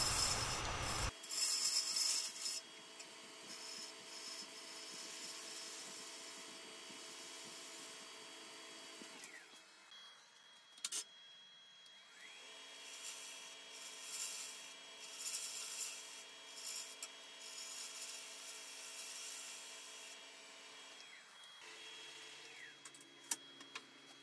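Woodturning tool blending the bottom of a wooden ogee platter spinning on a lathe, giving a steady close scraping, rasping drone with small shifts in pressure, a brief break near the middle, then continuous cutting again.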